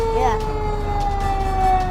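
A fire truck siren triggered by a foot pedal wails with steady sustained tones over a low engine rumble, loud and close, holding through the whole stretch after a brief rising sweep at the start.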